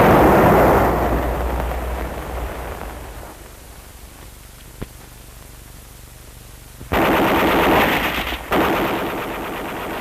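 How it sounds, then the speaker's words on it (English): Machine gun firing during 1950 infantry division field training, heard as a loud roaring burst that fades, a quiet stretch with a single sharp crack, then two more loud noisy bursts near the end. "The chief advantage of the machine gun is the low silhouette and its surprise advantage when fired from a concealed position."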